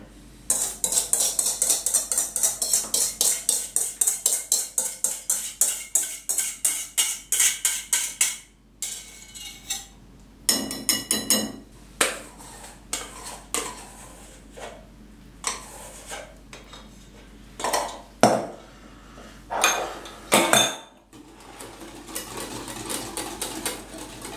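A whisk beats cream and milk in a bowl for an apple-rhubarb tart, rapid rhythmic metal clatter against the bowl, steady at first, then breaking into slower irregular scrapes and knocks, close up with no talking.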